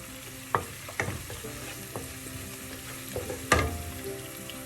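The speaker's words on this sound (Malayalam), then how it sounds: "നന്നായി മിക്സ് ചെയ്യാം സ്റ്റൗ ഹൈ ഫ്ലെയിമിലാണ് വെച്ചിരിക്കുന്നത്" Chilli chicken frying on a high flame as it is stirred, a steady sizzle broken by several sharp scrapes and clacks of a utensil against the pan.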